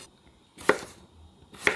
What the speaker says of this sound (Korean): 반달 모양으로 호박을 썰어요